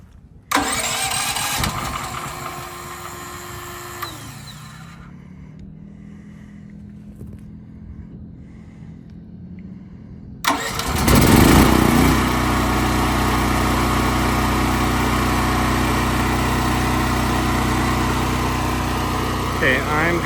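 Westinghouse WGEN9500TFC generator on propane: a starter cranks, then a first try runs briefly, then after a quiet gap the engine catches and settles into a loud, steady running drone close by.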